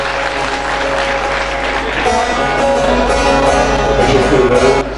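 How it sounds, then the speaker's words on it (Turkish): Enthusiastic applause at a folk poets' festival at the Şahkulu Sultan dervish lodge in Istanbul, dense and close, clapping steadily and swelling louder toward the end before cutting off. "Coşkulu alkışlar"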